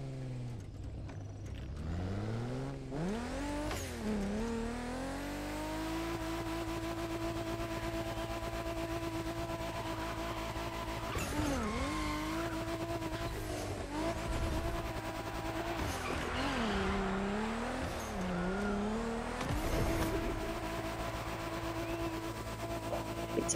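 Car engines in a racing video game rev and shift through rising and falling pitch sweeps, with a steady loud roar and brief tire squeals throughout.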